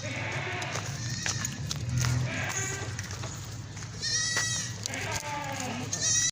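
A milking nanny goat with a kid bleats repeatedly at a livestock market, with wavering calls rising over a steady crowd murmur and people talking nearby.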